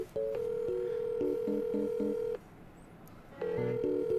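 Telephone keypad tones from a handset dialing a number, a run of short steady beeps in quick rhythmic groups, then a pause and another burst of dial beeps, close and clear with no talk.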